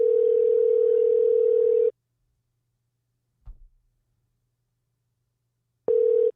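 Telephone ringback tone while placing a call to a radio morning show: a steady, loud single-pitch tone sounds for about two seconds, then silence with a faint click, before the same tone resumes near the end.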